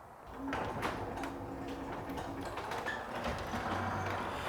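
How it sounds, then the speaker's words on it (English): An FMF Genie B6172H WiFi jackshaft opener closing a garage door: a low, steady mechanical hum and rumble with faint whirring and light rattles throughout, heard from a short distance. "And we can see the door closing behind us."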